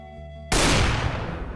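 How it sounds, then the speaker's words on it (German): A sudden loud gunfire burst in the video game Trouble in Terrorist Town hits after a quiet hum, then decays into a rumbling, crackling tail. "Ich höre Schüsse."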